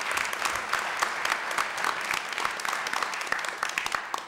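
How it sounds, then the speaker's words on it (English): An audience at a State of the City speech breaks into steady, dense applause, many hands clapping at once close by for a few seconds. "it's worth an applause"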